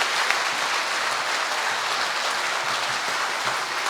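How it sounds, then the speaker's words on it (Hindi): Dense, steady applause from a large audience at a Hindi comic poetry gathering greets a poet walking to the stage, a loud continuous wash of clapping with no voices over it. "सारा सदन अपने हाथ खड़े करके जोरदार तालियां बजाकर उनका स्वागत करें"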